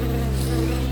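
A steady, droning insect buzz holds constant and close for a brief moment, with no talk.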